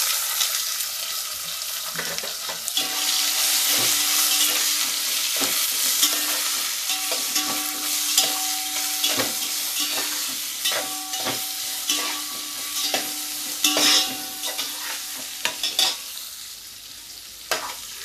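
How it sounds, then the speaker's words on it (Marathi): Ivy gourd slices sauté in a pan over a tempering in oil, with a steady sizzle broken by repeated scraping and clinking spoon strokes as they are stirred, close and fairly loud. "तोंडली चांगली परतून घ्यायची आहे"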